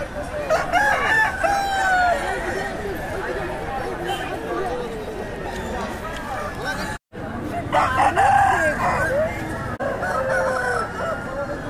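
Fighter roosters crow repeatedly at a village market held in the Jhilimili forest, loud and fairly close, over steady crowd chatter and people talking.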